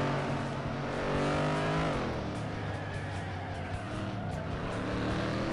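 Cars race in the video game FlatOut, a steady loud engine roar with shifting revs and tire noise as a car slides into a skid, continuous with no talk.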